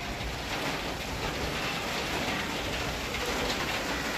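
Heavy rain drums steadily on a metal sheet roof, a loud, dense, unbroken clatter with no voices.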